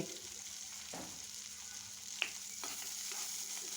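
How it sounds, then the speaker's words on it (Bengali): Onions frying in a pan, a faint steady sizzle with a few soft scrapes of stirring and one brief utensil tick. "এখন এড়ে চেড়ে দিচ্ছি পেঁয়াজটাকে বেজে নিচ্ছি"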